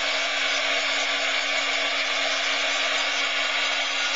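A heat tool blows and hums steadily, close and loud, while melting embossing powder on chipboard, a constant whirring hiss with a faint tonal whine and no talking.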